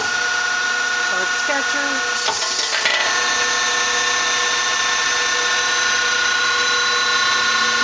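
Hanwha Hanex 25 CNC Swiss lathe with its sub-spindle running at 2,000 RPM, a steady machine hum with high whining tones held throughout, loud and close, with a brief voice and a few clunks early on.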